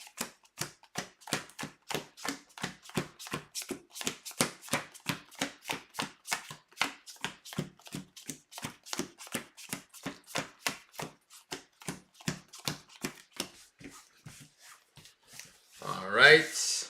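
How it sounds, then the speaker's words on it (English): Cards riffled and shuffled by hand for a tabletop card game, a long run of rapid evenly spaced flicks and snaps, close and crisp, with a brief rustle at the end. "Now we're going to shuffle our friend"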